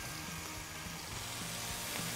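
Onions frying in hot oil in a pan, a steady dense sizzle that holds evenly throughout at close range, with no voices.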